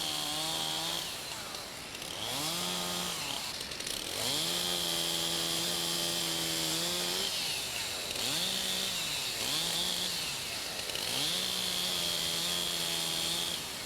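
A chainsaw limbing side branches off a felled trunk, the engine loud and close, revving up and down in repeated surges as each branch is cut, with a constant high whine throughout.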